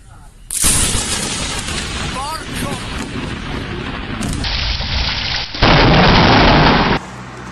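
A lightning strike close to people crashes in as a sudden loud burst of thunder, then a sustained roar and a second sharp jump in loudness over steady rain.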